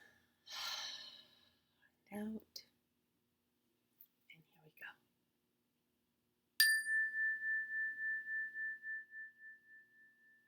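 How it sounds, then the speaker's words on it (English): A slow, audible inhale of breath opens a quiet mindfulness session, followed by soft whispered breathing, then a single tone bar is struck and rings out clearly, its bright tone slowly fading with a gentle pulsing shimmer. "Nice breath in."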